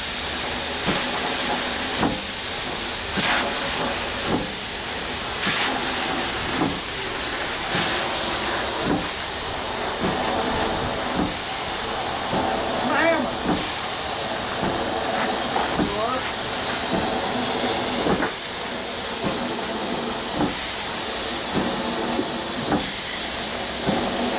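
An 1895 Bates Corliss steam engine running on its first start in over 80 years, giving a loud continuous hiss with rhythmic mechanical knocks and clanks, and people talking faintly underneath.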